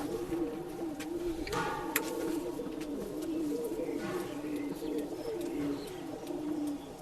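Pigeons cooing steadily in a loft at a Bangalore pigeon sale, a continuous throaty murmur of several birds close by, with a few sharper calls and someone speaking over them.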